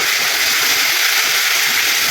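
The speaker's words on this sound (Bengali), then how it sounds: "আদা রসুন বাটাটা দিয়ে দিলাম" Ginger-garlic paste with whole spices and sugar dropped into hot oil for a prawn malai curry, a loud, dense, steady hiss of sizzling close up, with no voices.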